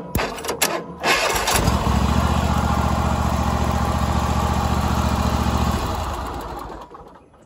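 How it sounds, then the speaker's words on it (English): An engine cranks briefly and then catches after a starter solenoid's poles are bridged with a screwdriver, settling into a steady close idle for several seconds before winding down and fading out. "The starter works, the battery turned it over, cross the poles with a screwdriver, starts"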